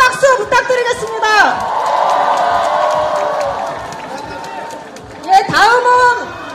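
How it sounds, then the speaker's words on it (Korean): A crowd at an outdoor presidential campaign rally in Jinju erupts in sustained cheering and applause. An amplified announcer's voice sounds at the start and end, with whoops and rolling crowd noise in between. "뜨거운 박수 부탁드리겠습니다."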